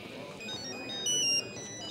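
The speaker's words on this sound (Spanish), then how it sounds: "Teléfono, Meltem." A telephone ringtone from a Turkish television drama chirps in bright, repeating electronic tones, moderately loud over a busy room background with people talking.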